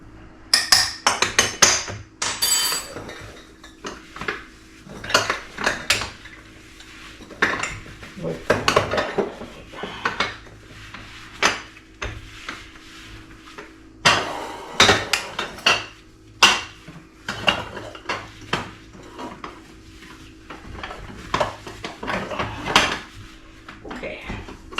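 Canister lids being wiped and handled during a kitchen clean, with repeated clinks and knocks of lids, dishes and utensils at close range, irregular and sometimes loud, with occasional quiet talk.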